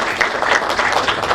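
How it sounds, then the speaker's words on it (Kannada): A live audience at a Kannada film event for Rangasamudra breaks into a short, dense burst of clapping, close and loud, lasting only a moment. "ದಯವಿಟ್ಟು ಅವ್ರಿಗೆ ಒಂದು ಚಪ್ಪಾಳೆ ಕೊಡಿ."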